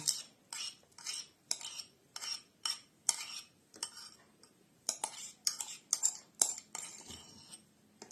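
A spoon clinks steadily against a pot or bowl while melted gelatin is stirred into warm milk, a run of quick metallic taps close to the mic with a little quiet speech.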